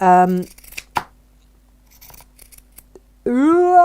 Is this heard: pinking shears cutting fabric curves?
yes